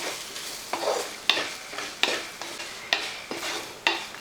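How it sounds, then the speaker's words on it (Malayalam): Masala powder is stirred into frying potato curry in a pan, with rhythmic scraping strokes of a spoon repeating roughly every three quarters of a second over a soft, steady sizzle, close and without talk. "ഈ പൊടി മസാലപ്പൊടി എല്ലാം കൂടെ അങ്ങോട്ട് ഇട്ട് കൊടുക്കും. ഇനി ഇതൊന്ന് ഇളക്കി ഒന്ന് ഇളക്കി കൊടുത്തതിന് ശേഷം"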